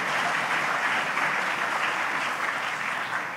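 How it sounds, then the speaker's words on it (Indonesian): Sustained applause from a large audience at an Indonesian philosophy and education talk in Bandung, an even, dense wash of many hands clapping steadily at moderate loudness throughout, with no speech over it. "Jadi silakan tepuk tangan."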